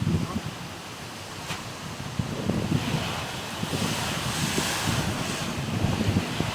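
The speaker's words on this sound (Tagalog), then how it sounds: "Sobrang lakas ng hangin at sa ulan." Strong wind roars steadily across the coast during a storm with rain, boats and a hut nearby, a continuous loud buffeting rush that swells slightly toward the end, with surf-like noise mixed in.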